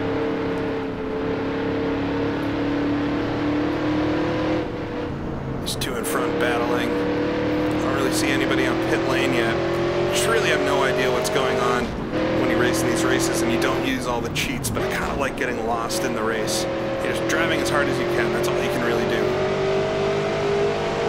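Race car engines drone steadily through laps in a 1966 NASCAR Grand National racing video game at the Motor Trend 500, pitch climbing as the car accelerates, with brief shifts and tire noise under constant commentary.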